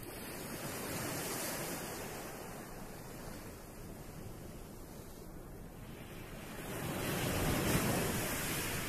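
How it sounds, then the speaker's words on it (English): Gentle ocean waves wash steadily onto a sandy beach, a soft continuous surf hiss that swells slightly louder toward the end, with no voices. "The sound of the gentle waves has radiated down to your arms and shoulders"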